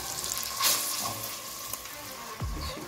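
Water is poured into a hot pan holding leftover meat juices and seasoning while a pork loin mustard and honey sauce is made. It gives a close sizzle and bubbling, with a few clinks and a splash near the end.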